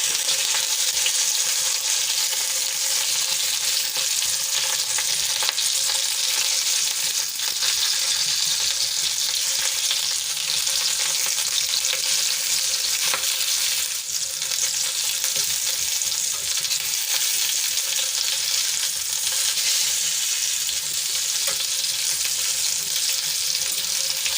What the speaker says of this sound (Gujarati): ધીમા તાપે આપણે એને શેકાવા દઈશું થોડી વાર થોડી વારે આપણે એને ફેરવતા રહેવાનું